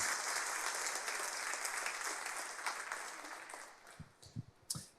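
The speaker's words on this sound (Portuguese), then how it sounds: "Aplauda o nome do Senhor" Congregation applause fills a church service, a dense wash of clapping that holds steady then thins out, ending in a few scattered, separate claps.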